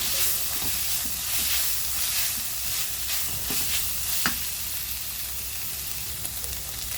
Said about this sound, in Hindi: अभी इसमें चिकन डालेंगे, चिकन डाल के अच्छे से भुनेंगे।